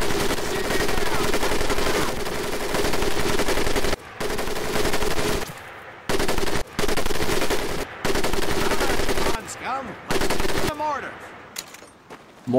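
Sustained machine gun fire from a two-man crew in Medal of Honor Pacific Assault, loud continuous bursts broken by short pauses, with scattered battlefield noise and voices near the end.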